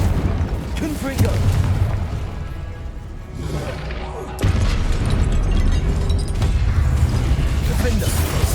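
Confringo fire spell blasts in Hogwarts Legacy, a magic video game: repeated booming explosive bursts, loud and close, layered over steady game music and effects with a sharp new impact partway through.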